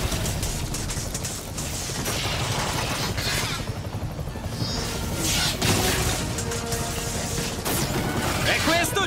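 Helicopter with a failing engine, plus gunfire, in the Spider-Man PS4 video game: a dense, loud, sustained rotor and engine roar with crashing bursts and scattered shots running throughout.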